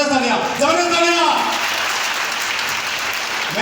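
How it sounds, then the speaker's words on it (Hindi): An audience claps for the Border Security Force, the applause building under a voice at first and then continuing alone at a steady, moderate level. "तो मैं चाहूँगा एक बार बॉर्डर सिक्योरिटी फोर्स के लिए जबरदस्त तालियां, जबरदस्त तालियां।"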